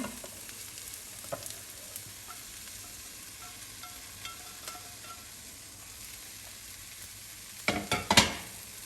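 Nigerian fried rice being stirred and fried in a pot, with a low steady sizzle running throughout and a few louder scraping clatters of the spoon near the end, heard close and alone without talk.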